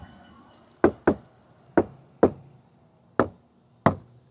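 Six close, sharp knocks on a 2011 Tahoe door with sound deadening applied, sounding dull and solid. They come at uneven intervals with short decays and quiet gaps between them, and no one talks.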